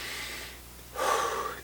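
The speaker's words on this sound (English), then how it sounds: "close your eyes, take a few deep breaths" A single deep breath taken as a calming exercise, with a soft, faint airy exhale followed by a louder, sharper inhale, close and alone without talk.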